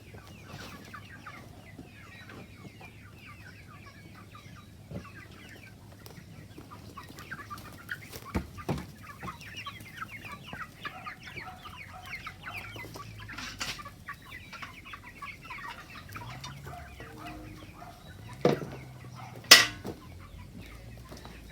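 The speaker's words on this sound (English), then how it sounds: "Happy chickens." Homestead chickens cluck softly and steadily on the farm as they are fed, murmuring calls coming close together, with a few sharper squawks and bumps toward the end.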